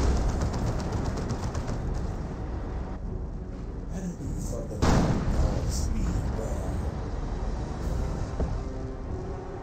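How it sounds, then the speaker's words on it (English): Baneblade super-heavy tank firing its cannon in the Dawn of War 2 strategy game: one sharp, loud blast near the middle, set in a dense, continuous roar of battle noise. "Demolisher cannon, fire."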